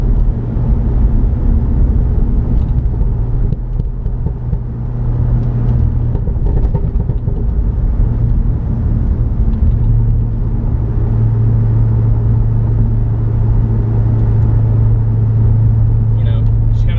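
Chevrolet Corvette C6 Z06 on the road, its engine giving a steady low rumble with road noise throughout as the car drives along, fairly loud and close from inside the cabin.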